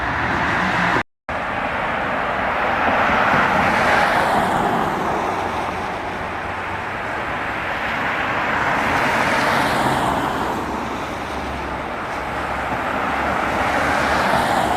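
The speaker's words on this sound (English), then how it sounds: "So yeah, I see a bus down there." A bus and steady street traffic roll past on a snowy day, a continuous broadband road roar that swells and eases as vehicles go by, with no talk over it.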